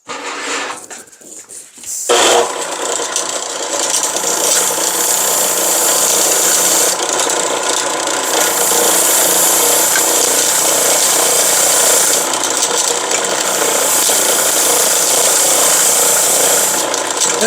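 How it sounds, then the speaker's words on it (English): A grinder working on an antique brass fire extinguisher, a loud continuous harsh rasping whine that starts after a brief quieter moment and holds steady to the end, close up. "All right, I'll fire up the grinder."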